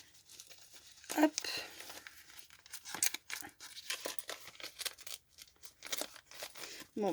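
Paper rips and crinkles in bursts as mail held shut with double-sided tape is torn open, with sharp tearing sounds and rustling spaced irregularly across several seconds.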